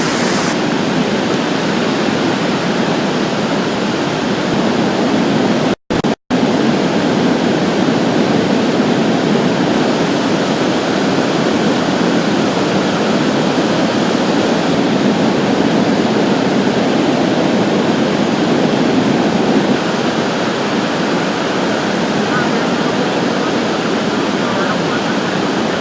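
Steady, loud floodwater roars through a drainage ditch without a break, a broad wash of turbulent flow, close and continuous.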